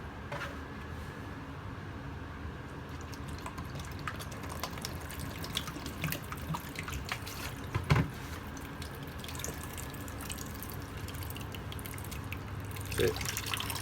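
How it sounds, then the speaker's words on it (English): Soft trickling and dripping of pure RO water poured close by onto an orchid in semi-hydroponic media, gentle and continuous, over a quiet room background. "let's give it a nice quick watering."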